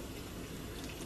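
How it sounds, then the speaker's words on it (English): A little water runs steadily into a hot pan for about a second, a continuous close splashing wash with no talk. "I'm gonna add a little bit of water"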